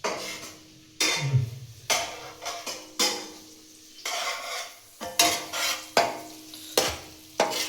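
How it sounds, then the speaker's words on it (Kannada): Garlic fries on a low flame until golden brown for butter garlic chicken, with a spatula scraping and stirring against the pan in repeated strokes over a faint sizzle, and no talking. "ಸ್ವಲ್ಪ ಪರಿಮಳ ಬರೋ ಥರ ಗೋಲ್ಡನ್ ಬ್ರೌನ್ ಕಲರ್ ಆಗೋವರೆಗೂ ಫ್ರೈ ಮಾಡ್ಕೊಳ್ಳಿ."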